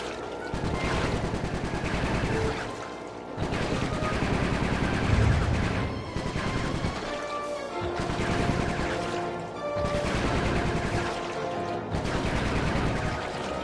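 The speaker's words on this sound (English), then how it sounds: "Nice shooting, Bentley." Bursts of rapid gunfire from the Sly Cooper 3 video game come in repeated volleys of several seconds each, with short gaps between them and game music and effects underneath.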